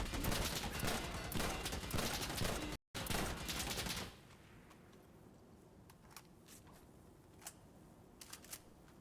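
Gunfire in the video game Insurgency Sandstorm, a dense rattling burst of automatic fire for about four seconds with a brief cut, then scattered faint distant shots.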